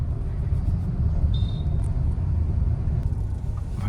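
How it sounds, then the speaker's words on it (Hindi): A car being driven slowly and turned gently, giving a steady low rumble of engine and road noise heard from inside, with no talking. "आराम से गाड़ी टर्न करनी है।"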